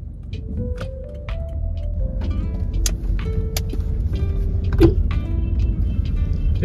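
A sedan car on a rough mountain road, a low steady engine rumble close up with faint creaks and knocks from the body, no talk.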